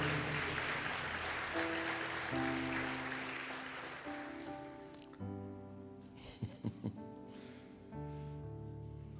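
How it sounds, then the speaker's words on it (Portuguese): A church congregation claps together during a worship service. A dense wash of applause fills the first few seconds, then thins and fades beneath sustained instrumental chords. "Você pode aplaudir o Senhor?"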